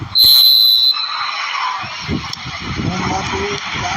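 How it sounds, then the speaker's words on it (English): A referee's whistle shrills in eFootball PES 2025, a single sustained blast of under a second, followed by crowd ambience and a commentator speaking. "There's the whistle."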